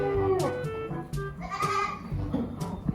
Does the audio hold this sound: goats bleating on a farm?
yes